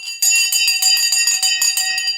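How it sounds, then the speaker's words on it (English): Bell rung repeatedly in quick succession, bright ringing strikes with a sustained metallic tone, loud and close with no talking. "Let me ring the bell."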